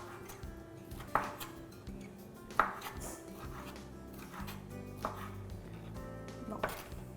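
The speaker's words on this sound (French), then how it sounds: "Puis je vais faire les petits cubes après pour faire revenir dans l'huile." A knife cuts vegetables into small cubes on a board, giving a handful of spaced, moderately close chops and knocks over a low background hum.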